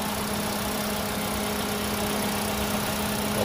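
A Daihatsu Sigra car engine idles with the hood open, giving a steady, close mechanical hum with a faint rattle and no talking.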